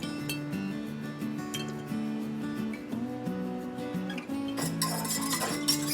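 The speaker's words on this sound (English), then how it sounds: "I'm going to fill it about halfway with the eggs." A few hard clinks against glass as boiled eggs are set into a jar for pickling, with soft background music playing throughout.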